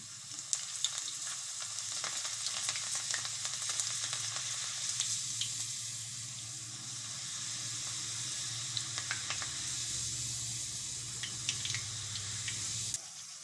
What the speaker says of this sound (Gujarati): તો આ રીતે આપણે ગરમ તેલમાં આમ બોળવાની